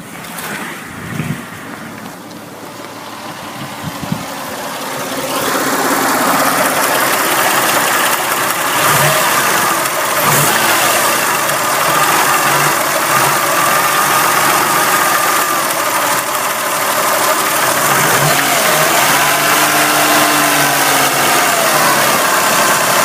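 A 1992 Lexus ES engine starts with a few sputters, then settles into a loud, steady running idle with a faint ticking under the drone.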